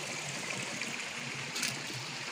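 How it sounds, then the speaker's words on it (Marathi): Spring water trickles out of the rock at a natural Konkan spring, a steady close babbling stream with no voices. "दगडातनं पाणी येतं."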